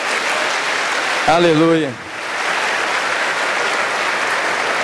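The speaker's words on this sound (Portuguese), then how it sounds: "Dê um aplauso ao Senhor." Church congregation applauding, a dense steady wash of clapping throughout, with a voice briefly calling out over it partway through.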